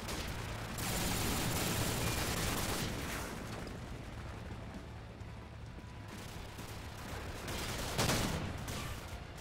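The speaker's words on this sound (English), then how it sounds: "I love it when my shotgun double shoots." A shotgun fires twice in a first-person shooter game, with heavy blasts and dense gunfire-like noise running throughout and a stronger burst near the end.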